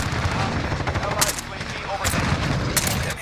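Gunfire in the video game Modern Warfare: loud, close bursts of shots over a dense, noisy battle background, with sharper cracks standing out near the middle and toward the end.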